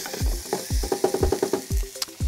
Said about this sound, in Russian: Так, лук отправился в кастрюлю. Его нужно обжарить.